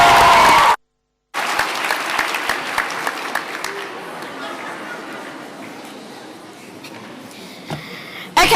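Audience at a school debate on lowering the voting age to 16 in the UK breaking into steady applause after a brief silence, a dense wash of clapping with some crowd chatter, fading toward the end.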